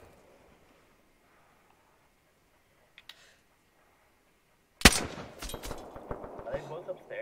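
Video game gunfire: after near silence and one faint click, a loud burst of rapid shots erupts, followed by scattered further shots and rattling.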